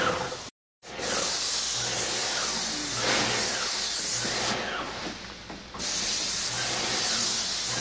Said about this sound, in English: all we're doing now is spraying water on there to put moisture on it